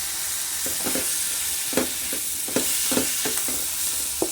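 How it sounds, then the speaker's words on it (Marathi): Carrot, brinjal and drumstick pieces are stirred in a sizzling pot for idli sambar, with repeated sharp spoon scrapes and clacks over a constant hiss of frying, close and clear, with no one speaking. "गाजर वांग शेंगा सर्व मिक्स करायचं आहे"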